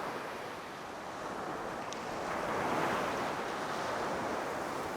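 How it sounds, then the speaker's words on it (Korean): Sea water washes in and out along a rocky shore in front of a village, a continuous rushing wash that swells slightly midway, with no voices. "하루에도 몇 차례 바닷물이 드나드는 마을 앞 해안가."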